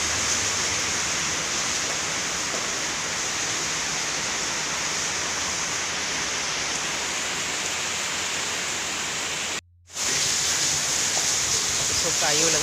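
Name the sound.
heavy rain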